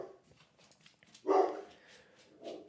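A dog barks in a home, a fairly faint gruff woof rising in the middle followed by a softer second bark, with no talk over it.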